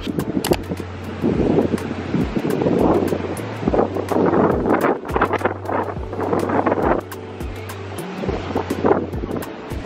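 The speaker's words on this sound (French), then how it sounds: "il y a beaucoup trop de vent" Strong wind on the Maltese seaside buffets the microphone in heavy, continuous gusts, with rough waves and surf roaring beneath and a steady low drone throughout.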